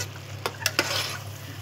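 Potato and tomato curry being stirred in a pot, a soft bubbling sizzle with three quick scraping strokes close by, over a low steady hum.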